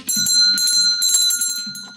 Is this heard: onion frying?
no